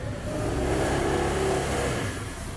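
Rusi Sparkle 150i scooter engine on a short test ride, a steady mid-pitched hum that swells briefly as it revs then eases off, close and without talk.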